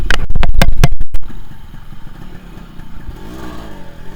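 A 21-year-old stock Yamaha RX 135 two-stroke motorcycle gives a few loud, sharp bursts as it fires and revs, then settles into a quieter rumbling idle.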